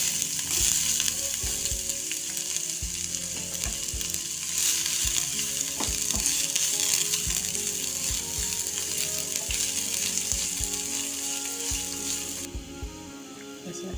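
Chopped onion and green chili fry in a pan with a steady, close sizzle throughout, punctuated by occasional scraping and stirring knocks, with no talk.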